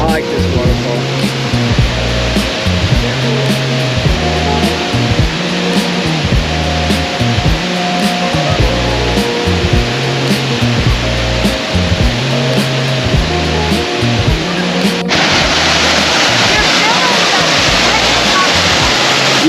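A waterfall at a camping spot rushes in a loud, steady roar that fills the whole clip, close by, with a deep rhythmic throbbing underneath and a brightening of the noise near the end.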